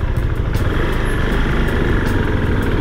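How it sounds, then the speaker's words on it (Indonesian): A 650 cc single-cylinder motorcycle engine idles steadily and close by, a low, continuous chugging rumble that holds an even level throughout. "ketika diem gini, suara mesinnya cukup terasa, cukup lumayan kedengeran lah ya"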